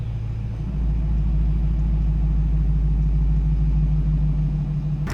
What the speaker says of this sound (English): I'm gonna have to change it into sport mode pretty much immediately because it has active exhaust